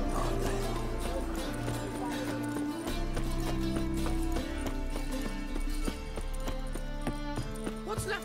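Horse hooves clip-clopping in The Witcher 3: Wild Hunt, a steady rhythmic run of hoof beats under game music, with voices talking over it.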